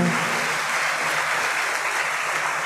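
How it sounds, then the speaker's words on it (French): A dense, loud burst of applause from a congregation at a university thanksgiving Mass, honouring the deans and vice-deans, steady clapping filling the whole moment. "je vous demande d'applaudir les doyens, les doyennes, les vice-doyens et vice-doyennes"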